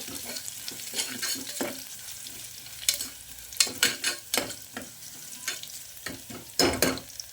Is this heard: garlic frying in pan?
yes